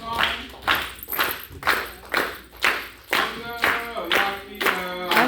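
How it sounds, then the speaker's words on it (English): Hand claps in a steady rhythmic pattern at a drumming story-time session, about ten sharp claps spaced evenly, with chanting voices and tones running underneath. "Hand clap"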